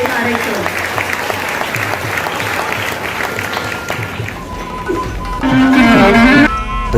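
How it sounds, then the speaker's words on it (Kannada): An audience at a village Bharatanatyam performance claps for the dancer Raksha Karthik, a sustained crowd applause that thins out midway before tonal music swells in near the end. "ನಮ್ಮ ವಿಶೇಷ ಹಾರೈಕೆಯ ಚಪ್ಪಾಳೆಗಳ ಮೂಲಕ ವೇದಿಕೆಯಲ್ಲಿ ಹಾರೈಸೋಣ"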